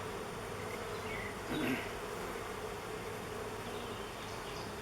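A steady dense buzz of honey bees fills the air around an open hive during a queen check, holding even and close, with one slightly louder swell as bees pass near.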